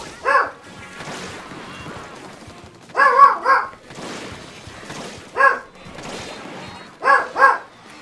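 Dogs bark in a game session, several short bursts of barks spaced a couple of seconds apart, fairly loud, with background game noise between them.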